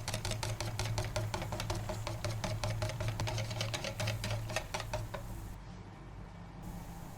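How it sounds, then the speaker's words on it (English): A whisk beats white flour into batter in a bowl, making a fast, even run of light clattering taps up close that stops abruptly about two-thirds of the way through. "Here goes our white flour. Whisk, whisk, whisk."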